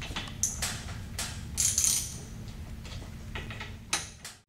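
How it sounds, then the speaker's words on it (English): Bolts come off the cover of a Viking Model J-1 flow control valve with a series of sharp metallic ratcheting clicks and taps, close and moderately loud. "remove each of the bolts."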